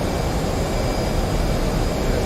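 An F/A-18 Hornet jet engine in the DCS World flight game, pushing for a supersonic pass over the Persian Gulf: a loud, dense, continuous roar with an even rushing texture and no variation, with no talk.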